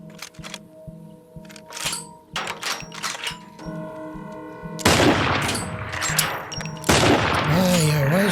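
Gunfire from a Walking Dead episode rings out as scattered single shots followed by dense, loud bursts of rapid firing, mixed with other loud scene sounds.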